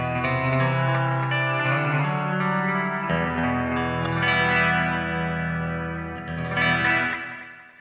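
Electric guitar played through a Mad Professor Kosmos reverb and delay pedal, sustained chords swelling with lush, echoing tails and chorus-like shimmer, loud and continuous with no voices.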